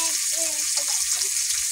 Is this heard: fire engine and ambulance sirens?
no